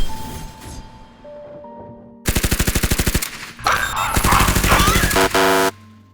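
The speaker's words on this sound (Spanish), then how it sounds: "Disparos y quejidos, sumados a los gritos de preocupación de la directora" Gunfire in an anime action scene: loud bursts of rapid machine-gun fire, crackling volleys separated by short gaps, with sharp impacts and a chaotic mix of sounds.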